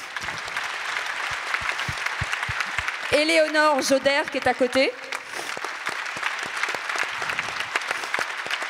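Audience applause at a women's forum event, a few scattered claps at first and then a steady patter running under someone speaking at the microphone.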